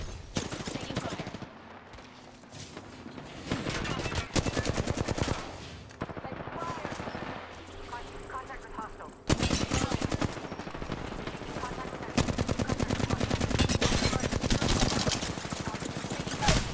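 Video game gunfire in Apex Legends, bursts of rapid automatic shots and heavier single cracks in loud, dense volleys with brief gaps between them.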